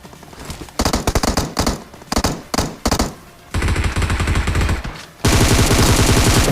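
An enemy player fires at close range in a multiplayer shooter game: sharp bursts of rapid automatic gunfire in short clusters, separated by brief gaps, ending in a sustained loud volley.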